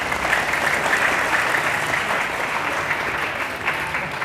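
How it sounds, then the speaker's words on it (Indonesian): An audience at a Sunday morning gathering claps steadily, dense, loud and continuous applause throughout with no pauses. "Kok gak tepuk tangan?"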